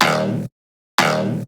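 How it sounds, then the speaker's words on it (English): An electronic EDM drum fill programmed in FL Studio, ending in a swept effect; two loud, dense bursts split by a short silence, each thick with bright, ringing tones that sweep and fade. "It like does that, you know, sweep thing"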